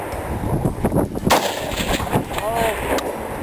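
Loud rifle gunshots at a practical rifle shooting match, several sharp cracks and booms close by mixed with crowd noise and chatter.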